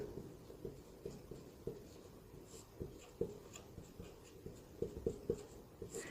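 Pen or marker scratching out notes during a history lesson, a string of short, soft strokes and taps at an irregular pace, close and fairly quiet.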